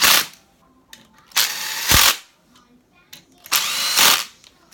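A power tool tightens Honda GX390 connecting rod bolts in loud bursts, three sharp whirring runs of about a second each separated by quiet pauses, close by, with faint clinks in between.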